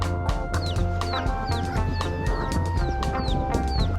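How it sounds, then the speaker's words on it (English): Feral chickens clucking and squawking close by on Tortola, with repeated short calls over a steady low background hum. "where the feral chickens seem to be in charge."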